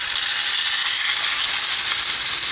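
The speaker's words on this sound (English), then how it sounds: "And you can hear that big time sizzle." Steady, loud sizzling of steak searing in olive oil in a hot pan, a continuous bright crackle with no talking.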